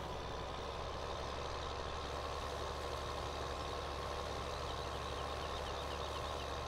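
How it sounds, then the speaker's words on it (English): A tractor engine in Farming Simulator 17 runs at a steady low drone, a constant mechanical hum that holds at an even level throughout without talk. "There's a tractor coming in here."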